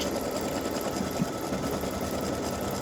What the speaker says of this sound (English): I'm going to put a placement stitch in case you want to put fabric down.